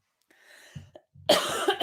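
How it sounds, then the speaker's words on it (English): A single close cough, preceded by a short intake of breath and a small throat noise, in an otherwise quiet setting. "Sorry, I had to cough"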